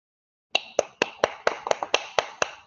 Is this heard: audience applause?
yes